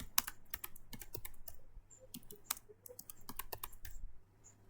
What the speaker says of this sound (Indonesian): Dan kita ketik namanya